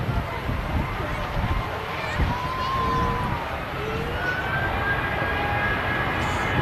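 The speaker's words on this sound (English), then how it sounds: "First to depart will be the British Airways back to London Heathrow." A British Airways airliner departing Manchester Airport for London Heathrow, a steady distant jet roar running underneath someone speaking throughout.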